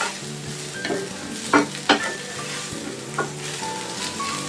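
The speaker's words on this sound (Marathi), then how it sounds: "तर आपण सोनेरी रंग येईपर्यंत कांद्याला परतून घेऊयात।" Sliced onion sautéing in oil for egg curry, a constant close sizzle with a handful of distinct spatula scrapes and knocks against the pan, moderately loud, no voices.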